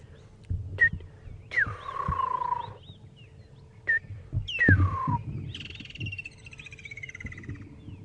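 Wild birds call in the bush at Djuma and Arathusa on a morning safari drive: several sharp, descending whistled calls and chirps arrive in separate bursts, fairly close and clear over a low rumble of background noise.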